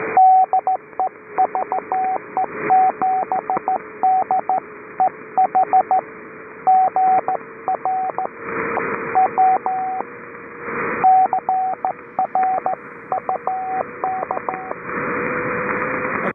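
Morse code CW tones sent over amateur radio on the 3.729 MHz net, a steady stream of keyed beeps in rhythmic bursts with brief gaps, loud and alone over radio hiss and static.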